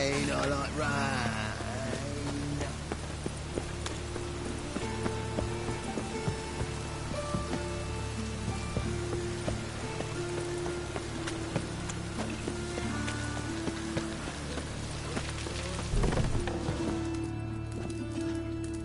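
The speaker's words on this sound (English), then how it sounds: "Rain, I like rain." Rain patters steadily in a medieval fantasy game world, a continuous wash under background game music, with horse hooves clip-clopping and occasional footsteps mixed in.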